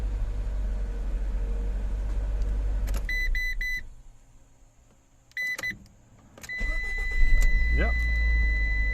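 A Ram Promaster City fitted with a new starter chimes with dash beeps, a brief starter whir, then the engine catches and settles into a steady idle, with a voice speaking nearby.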